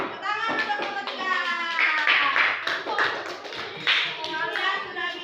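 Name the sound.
class of children clapping hands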